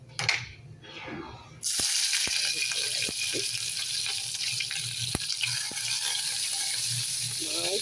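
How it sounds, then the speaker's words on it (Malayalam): A steady sizzle of hot oil fills the clip, with a few sharp pops and crackles scattered through it as mustard seeds burst in the pan. "കടുക് പൊട്ടി"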